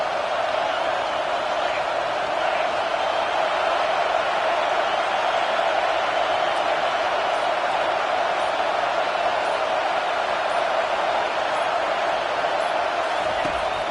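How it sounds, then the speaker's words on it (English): A football stadium crowd roars at a UCF versus Auburn game, a dense, loud, sustained wall of cheering that holds steady for fourteen seconds. "This crowd knows when to bring it."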